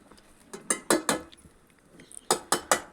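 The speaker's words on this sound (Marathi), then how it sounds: "आता झाकण द्या ठेवून मॅडम." A lid set down on a cooking pot in a home kitchen, giving a series of sharp metallic clinks and clatters in two clusters, close and fairly loud with no talk.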